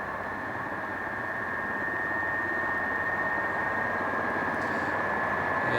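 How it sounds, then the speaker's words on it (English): Bomber aircraft engines warm up before a mission, a steady distant roar with a sustained whining tone riding over it, slowly building in loudness and carrying no talk. "Just let's hear the engines warming up"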